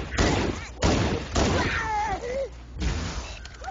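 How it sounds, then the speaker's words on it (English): Several sharp plasma pistol shots burst out during a Halo firefight on Legendary difficulty, arriving in loud clusters with brief gaps, laced with warbling electronic chirps and mixed with game effects and voices. "Wow, this plasma pistol is useful."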